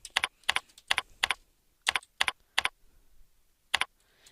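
Keys clack on a computer keyboard in short separate taps, a few quick pairs and single strokes with brief pauses between, close and clear in a quiet room.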